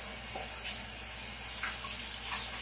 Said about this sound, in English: Rinse my cup.